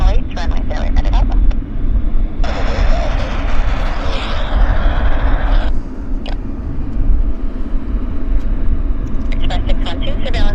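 Aircraft engine roar from arrivals at Vancouver airport, a steady loud rumble with a broad hissing rise in the middle, as a voice talks over it.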